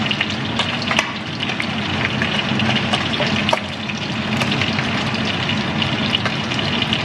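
Loud, steady sizzling and crackling of milkfish frying in hot oil, with frequent small pops throughout and no talking.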